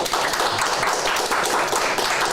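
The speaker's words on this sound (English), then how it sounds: "my other panellists who were with us and have now just slipped into the audience to give us wild and rapturous applause with the rest" An audience, joined by former panellists, gives a live panel discussion sustained applause. It comes as a dense, steady wash of many hands clapping at once, loud and continuous, with no speech over it.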